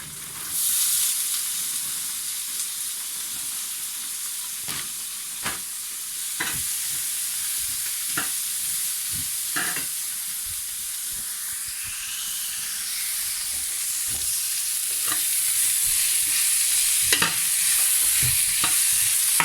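Meat sizzles and hisses steadily in a hot pan while being made into tacos, a bright continuous frying noise broken by repeated scraping and knocking strokes of stirring.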